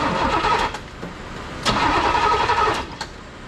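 A 1987 Pontiac Trans Am's engine is cranked over by the starter in two bursts of churning, close-up cranking separated by a short pause, loud and without speech.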